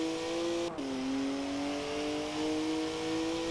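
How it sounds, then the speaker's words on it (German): A BMW M4 GTS engine in Forza Horizon 4 holds a steady, loud rev, dips briefly as it shifts, then climbs again smoothly, with no voices over it. "Das ist, glaube ich, die Sounddatei vom M4 GTS."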